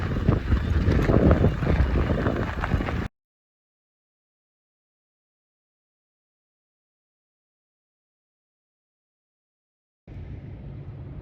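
Wind buffets the microphone in a strong, steady rumble at a mountain well site in Kananaskis, cuts out into a long silence, then resumes more softly near the end.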